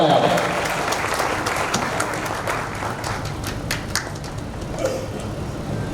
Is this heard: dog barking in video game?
no